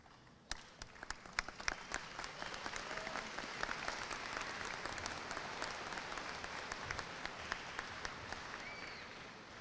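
An audience at a high school graduation applauds steadily, a dense crowd of clapping with scattered sharper claps, moderately distant and continuing throughout.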